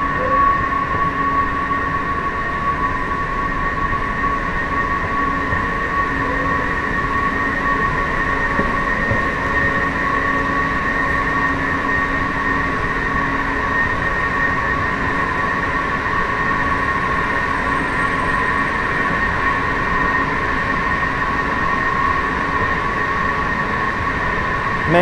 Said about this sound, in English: This is a deep metro station.